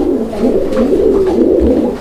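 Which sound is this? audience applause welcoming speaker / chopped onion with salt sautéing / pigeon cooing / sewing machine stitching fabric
pigeon cooing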